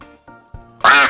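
Soundboard duck quacks played in Garry's Mod DarkRP: three short, fairly soft quacks in a row, followed by a louder, brighter, drawn-out quack at the end.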